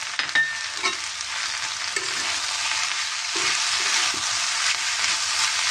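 Chopped onion stalks, tomato and eggs fry together in a pan, making a continuous sizzle broken by several soft stirring scrapes, with no voices.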